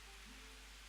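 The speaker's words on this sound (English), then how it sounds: "Apologies if the rain's really loud." A heavy rain downpour hisses steadily outside, a continuous broadband wash heard faintly and without pauses, with no voices.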